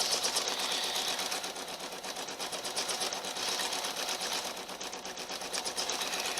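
A sewing machine runs steadily, stitching red metallic thread onto a light quilt-as-you-go table runner, with a loud, fast, even mechanical whir close by.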